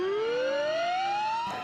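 A police car siren in a 1973 movie car chase wails as a single rising tone sweeping steadily upward, loud and close, ending in a brief burst of noise.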